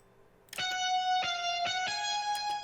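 A flute-like synth lead on a hyperpop beat plays separate notes without gliding between them, each starting with a sharp attack and ringing on steadily, about five distinct note changes, alone and fairly loud.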